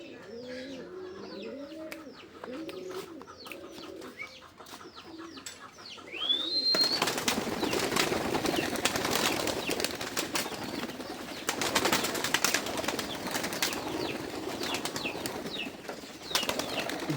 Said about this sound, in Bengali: আজকে আমরা কবুতর উড়াবো